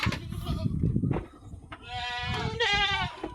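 Goats bleat inside a main goat house on a farm, several loud, wavering cries close by, the longest call near the end, over a background of shuffling animals.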